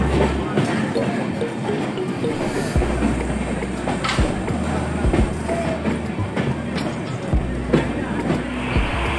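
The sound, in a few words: train running through Ranaghat station without stopping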